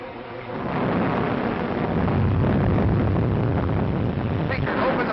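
A heavy thunderstorm rumbles at sea around a life raft, a loud, sustained roll of thunder that swells in after a quiet start and carries on with rain-like noise.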